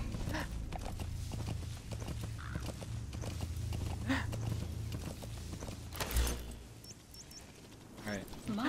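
A horse in the Metal Gear Solid V video game gives rhythmic clip-clop hoofbeats over a low rumble, with a brief whinny and other game effects. A voice talks intermittently over it.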